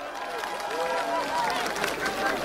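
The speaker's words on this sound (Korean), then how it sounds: "뜨거운 박수로 환영해 주십시오." A dense crowd at an outdoor Democratic Party presidential campaign rally in Jeonju roars steadily throughout, with a broad wash of clapping and cheering voices blended into a loud, continuous hubbub.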